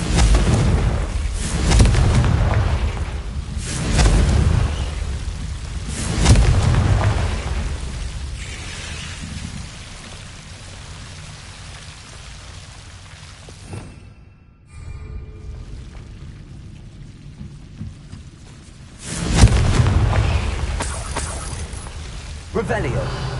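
Confringo spell explosions in a Harry Potter video game, several deep booming blasts that rise and fade, separated by quieter stretches, with a voice speaking over them.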